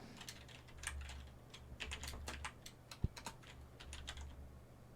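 Typing on a computer keyboard, quiet and close, with irregular bursts of key clicks and a couple of sharper taps, no talking.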